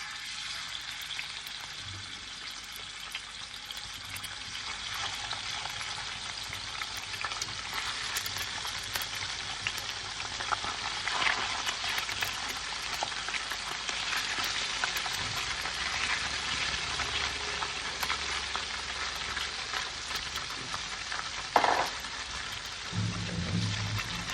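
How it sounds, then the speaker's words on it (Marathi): Fish frying in a little hot oil in a pan over a low gas flame gives a steady, soft crackling sizzle, close and continuous, with a few faint kitchen clinks and no talking. "आपल्याला तेल गरम करून गॅसची फ्लेम स्लो करून हे फिश फ्राय करायचे आहे."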